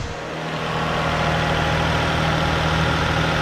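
A Ford Fusion 3.0L V6 from the 2006–2010 years idles steadily right after an oil change, a close, even engine hum with a low drone and no voices.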